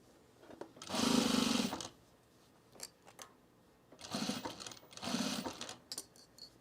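A sewing machine sews the waistband of summer pants in three short runs, each a second or so, with fabric handling and small clicks in the quieter gaps.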